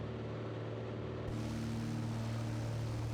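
A Piper Arrow III propeller engine droning steadily in Microsoft Flight Simulator, a continuous low hum with a throbbing engine tone that brightens and grows fuller partway through, with no voices.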